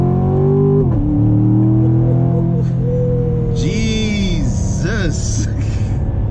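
A 2016 Chevrolet Corvette C7 Stingray accelerating hard, its engine rising in pitch through the revs with an audible upshift, loud and close from inside the cabin while someone talks over it.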